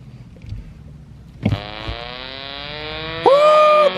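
Car exhaust running through a cheap $20 eBay muffler: a loud rumble kicks in partway through and settles into a steady, rising engine drone, with a shrill tone cutting in near the end.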